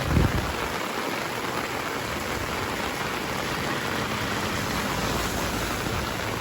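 Heavy rain pours onto a flooded Chiang Mai street, a dense, steady loud hiss of water on pavement throughout, with a brief bump at the start and no voices.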